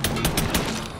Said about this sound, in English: I'm firing from the hip.